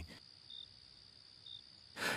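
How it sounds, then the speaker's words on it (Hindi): Crickets chirp at night in a quiet village lane as a thin, steady high trill, with two slightly louder chirps about a second apart, faint and alone between brief bursts of noise. "सिर्फ कहीं दूर से कुत्तों के भौंकने और झींगुरों की आवाजें सुनाई दे रही थीं।"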